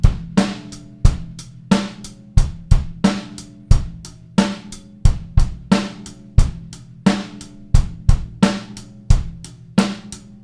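A simple rock groove on an acoustic drum kit, played a bit quicker, with regular kick and snare strikes and cymbal wash repeating in a tight, even rhythm, alone without speech.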